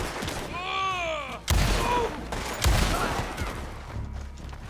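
Gunfire cracks out in Red Dead Online, two or three loud shots with a couple of seconds between each, while a voice talks over and between them.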